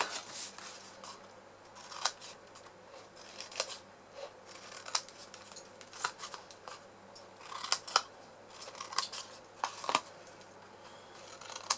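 Scissors snip repeatedly through card, cutting out wedges, sharp crisp cuts coming in irregular bursts, close and clear against a quiet background.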